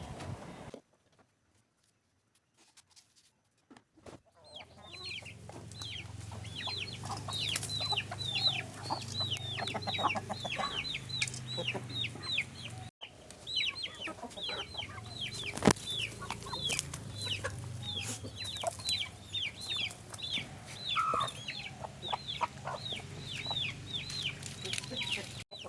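Backyard chickens clucking and pecking at fruit scraps after being fed, many overlapping soft clucks and chatter close by, continuous after a near-silent start, with a brief cut partway.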